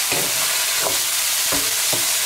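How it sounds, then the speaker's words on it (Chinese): Carrots and tofu are stir-fried in a pan, loud close sizzling with a few distinct scraping stirs of a spatula at irregular intervals, no talking. "再次翻炒，"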